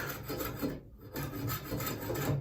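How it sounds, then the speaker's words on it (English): A draw knife shaves wood while a cane is being made, giving dense, close rasping strokes in a quick rhythm broken by one short pause. "with a planing blade or a draw blade like this, you cannot go away from you"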